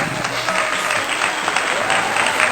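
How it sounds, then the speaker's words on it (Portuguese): Dense, continuous applause from a crowd celebrating a listener's birthday on a radio show, many hands clapping loudly and evenly throughout with a faint murmur of voices beneath. "Vamos dar os parabéns para ela com a salva de palmas."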